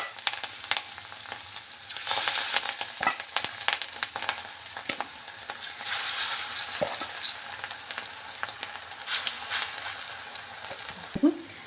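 Steady crackling sizzle of pakoras frying in hot oil, with occasional louder pops and faint clinks, fairly close and continuous.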